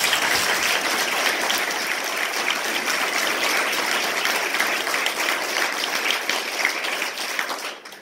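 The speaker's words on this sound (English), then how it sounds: "Please join me in a big round of applause for these amazing people." Audience applause at a grand opening, a dense, steady wash of many hands clapping that holds at a constant level before tapering off at the very end.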